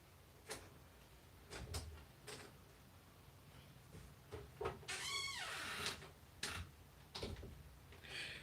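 A door at home is shut and locked: a series of knocks, thuds and a brief metallic rattle of the lock, spread over several seconds with quiet gaps between, no talking.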